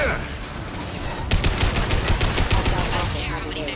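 Rapid gunfire in Mass Effect 2 (Legendary Edition, PC), a dense burst of repeated shots starting about a third of the way in and running to the end, loud and close, with faint voices under the firefight.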